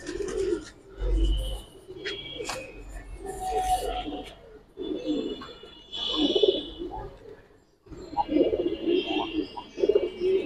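Giribaz pigeons coo softly in a loft, with low murmuring calls and occasional chirps over faint background noise, while people talk nearby.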